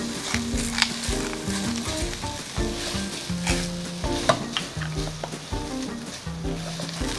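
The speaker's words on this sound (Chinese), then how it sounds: "好了，我们的馅料就炒好了" Filling stir-fried with black pepper in a wok for Hakka cu ye ban kuih, a steady close sizzle with repeated scraping and stirring clanks of the spatula, no talk.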